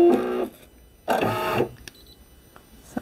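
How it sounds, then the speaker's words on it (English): An embroidery machine stitching a basting outline around a sticky hoop, two bursts of rapid mechanical whirring separated by a pause, then faint clicks and taps, loud and close. "Doing a nice basting stitch around, to make sure it's not going to move."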